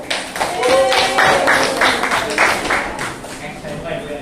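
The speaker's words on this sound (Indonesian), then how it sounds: "Tepuk tangan dulu" Students in a classroom clap for a group presentation, a short burst of scattered hand claps mixed with children's voices and chatter, fairly close and fading after a few seconds.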